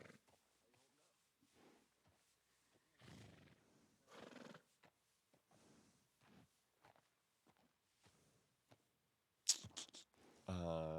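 A horse whinnies in Red Dead Redemption 2, a short neigh near the end that follows scattered clip-clop steps and other quiet game sounds.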